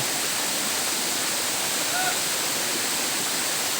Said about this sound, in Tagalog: Dito sa talon na ito.